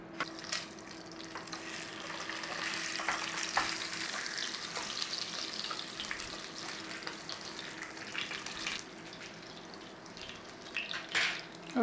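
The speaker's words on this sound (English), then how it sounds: "We're going to sear up the meat the best we can before it goes in the oven for a big sear." Pork roast searing in a hot pan, a continuous close sizzle and spatter that rises and falls as the meat is turned, with occasional clinks of the pan and no talking.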